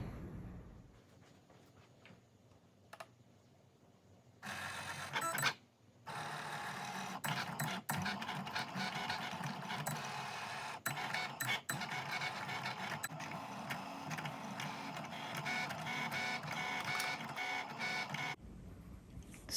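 A Cricut cutting machine slices metallic heat transfer vinyl, giving a steady, close mechanical whir and scratchy carriage movement with repeated clicks, running continuously for most of the span after a quiet start, then stopping abruptly.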